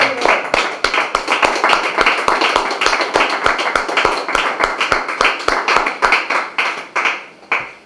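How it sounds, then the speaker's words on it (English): Close, steady clapping from a small audience at a live poetry reading in a venue called the Island, a dense run of sharp claps that thins out near the end. "Let's have one more round of applause for Lee McCormack."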